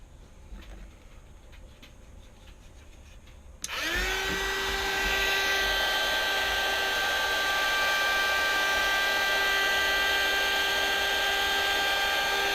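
A heat gun switches on with a sharp click after a quiet stretch, then blows in a loud, steady whine while shrinking heat shrink tubing on a micro quadcopter build.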